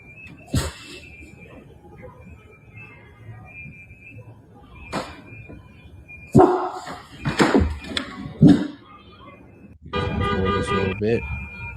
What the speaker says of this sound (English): There's Renee Good, pretty much, like I said, honking the horn and rhythm.